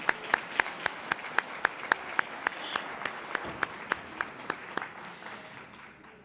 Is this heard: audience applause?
yes